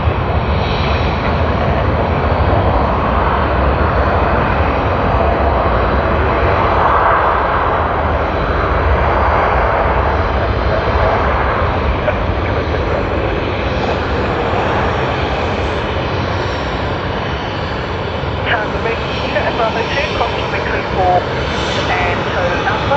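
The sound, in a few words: Jetstar Boeing 787 jet airliner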